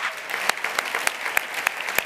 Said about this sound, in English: Helena deserves a second round of applause